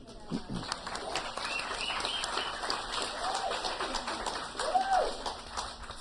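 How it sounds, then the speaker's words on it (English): An audience at a talk applauding: a continuous patter of many hands clapping at moderate distance, fairly even in level and swelling slightly near the end, with faint chirping sounds mixed in. "Thank you for applauding yourselves."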